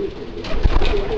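A pigeon bred as a cross of a gorguera and a homing pigeon gives one short, low cooing call close to the microphone.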